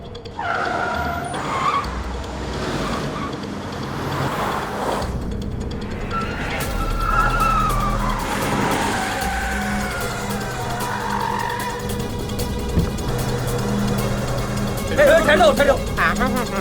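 Car chase scene from a Ravi Teja action film, with a car engine revving and tires skidding amid loud dramatic music and sirens, while people shout over the noise.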